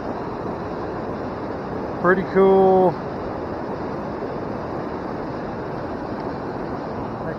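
A small creek waterfall, a smallmouth fishing spot near Covington, Ohio, pours with a steady, close broadband rush throughout, while someone speaks briefly over it midway.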